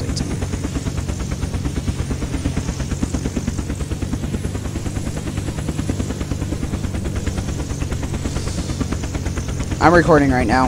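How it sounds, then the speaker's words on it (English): A helicopter in the video game Unturned lands with a steady, close rotor chop that thumps rhythmically throughout, and someone briefly speaks over it near the end. "First time I've ever successfully landed a heli!"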